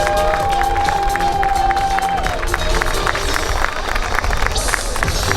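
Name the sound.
audience applauding prize-winning triathletes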